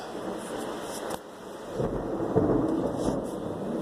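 Low, rumbling thunder rolls and swells over a steady hiss of rain, distant at first and growing heavier.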